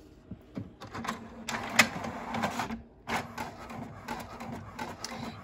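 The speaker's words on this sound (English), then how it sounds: "We're gonna send it over to the printer." A printer runs a job on water slide decal paper, giving close, uneven mechanical whirring and rattling passes with short gaps and small clicks as the carriage moves back and forth.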